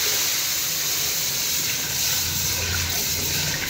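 A ground besan, yogurt and water mixture pours into a pan for kadhi, a continuous hissing, watery rush that stays steady and fairly loud from start to finish.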